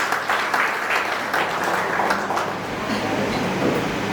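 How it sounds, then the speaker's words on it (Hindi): Guests at an engagement ceremony in Kabir Hall, Suva, break into sustained, dense applause that fills the room at steady loudness for the whole stretch, with a faint murmur of voices mixed into the clapping. "जोरदार तालियां हो जाए।"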